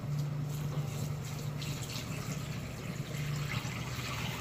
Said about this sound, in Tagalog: Isunod na natin yung tubig.